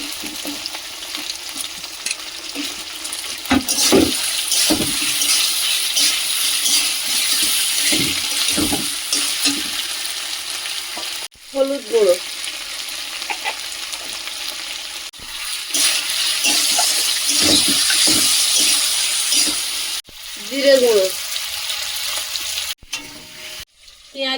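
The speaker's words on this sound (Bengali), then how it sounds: "বেশি ভাজবো না এবার চিকেনটা দিয়ে দেবো" Sliced onion, green chili and tomato fry in a pan with a steady, close sizzle, broken by the scrape and clatter of stirring and a few brief pauses, with no talk.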